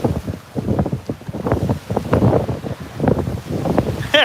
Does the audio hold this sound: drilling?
no